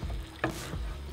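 Chopped onions with tomato sauce and tomato paste sizzle softly in a pan, a faint steady fry broken by one brief stirring clatter.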